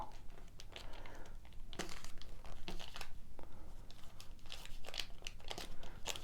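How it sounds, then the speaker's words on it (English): Paper being folded and creased by hand for a mini junk journal, with repeated crinkling and crumpling rustles at close range, several sharper crackles standing out, and no talk. "Fold it up."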